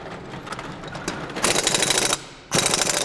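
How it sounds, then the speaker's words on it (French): Rapid rattling bursts from a ratchet wrench undoing a car wheel's four bolts: loose ticking clicks first, then two loud, dense ratcheting runs with a short pause between, close up and without talk. "Il faut sortir la roue, donc tu démontes tes 4 boulons"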